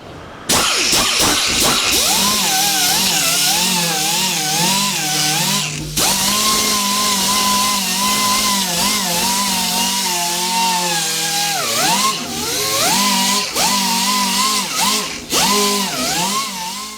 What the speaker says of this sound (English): Then I have this Cobalt 90-degree air grinder.